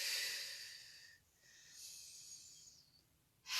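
A person exhales through the nose and mouth during arm-circle stretching exercises, giving a soft, airy, close breath that swells, pauses, rises again and then ends in a sharper final puff.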